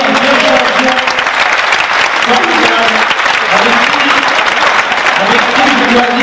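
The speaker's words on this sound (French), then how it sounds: "Vous pouvez les applaudir." Applause from an audience for two boxing champions fills the room steadily and loudly throughout, with voices talking over the clapping.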